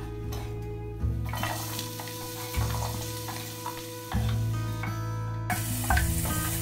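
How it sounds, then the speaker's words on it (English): Shallots sizzle in hot oil over medium heat, a close, continuous frying hiss that surges in short bursts. Tonal background music plays and nobody talks. "On medium heat, I added some oil and now in goes the shallots."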